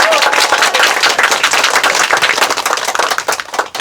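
A loud, dense burst of audience clapping at a book concert with a poet, steady throughout and thinning slightly toward the end.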